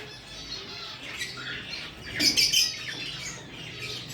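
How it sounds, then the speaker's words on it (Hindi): Pet parrots kept in a cage give a short burst of loud squawks at close range, with faint chirps scattered over a quiet background. "इसमें 2 तोते हैं"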